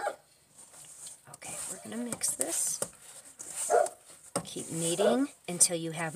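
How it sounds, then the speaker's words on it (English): A dog barks several times in the background while a person talks over it, with brief sharp yaps scattered among the speech. "I'm sorry about my dog"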